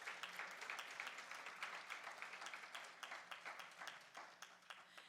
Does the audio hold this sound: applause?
yes